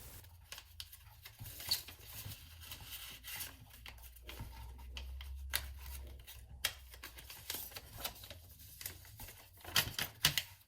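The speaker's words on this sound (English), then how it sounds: "Then fold the paper flat." Origami paper being folded flat while making a bull ring hanger, giving soft rubbing, creasing and scratchy paper sounds at close range, with intermittent crinkles and light taps and no talking.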